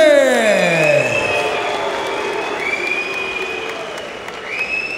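Crowd applauding and cheering at a professional boxing event as a fighter is introduced, a broad wash of arena noise beneath a reverberant amplified voice with long echoing tones.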